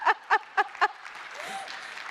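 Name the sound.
audience applause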